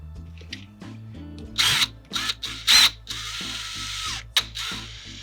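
A cordless drill drives screws into a Festool orbital sander pad, giving several short bursts of whirring with ratcheting clicks in between, close and fairly loud, with no talking.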